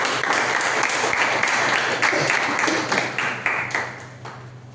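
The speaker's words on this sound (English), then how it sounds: "Please give a big round of applause" Big round of applause from a Toastmasters club audience at a Diwali special meeting as the general evaluator returns to the stage; steady dense clapping that thins and tapers off over the last second or so.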